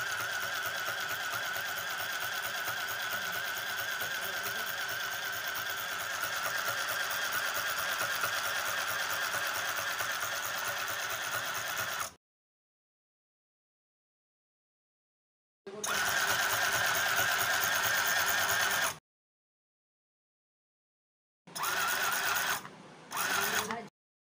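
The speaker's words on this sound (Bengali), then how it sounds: "কিভাবে সেলাই হচ্ছে দেখে নাও।" A mini sewing machine stitching fabric gives a steady, close mechanical whir that runs continuously, then stops and restarts in shorter bursts separated by silence.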